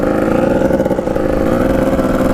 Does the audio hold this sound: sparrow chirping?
no